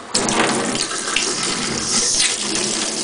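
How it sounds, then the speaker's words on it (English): Water sprays steadily from a kitchen faucet sprayer head into a sink, a close, continuous hissing splash lasting a few seconds with no voices. "try our sprayer."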